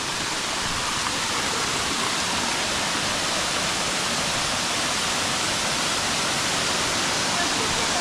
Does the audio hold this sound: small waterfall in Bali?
yes